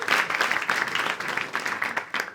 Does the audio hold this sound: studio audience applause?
yes